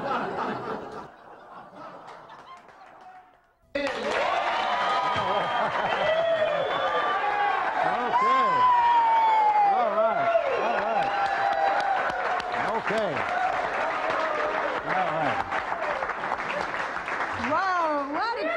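Studio audience in a garage-set cooking show breaks into sustained applause with chuckles and laughter mixed in, loud and close, after a brief quieter lead-in with a voice.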